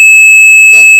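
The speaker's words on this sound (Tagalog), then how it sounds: "the lasers block the LDR, it will alarm" Piercing electronic alarm tone from a laser tripwire security circuit, set off when the beam to the LDR light sensor is blocked; a steady loud high beep holds throughout, with a brief burst of noise near the end.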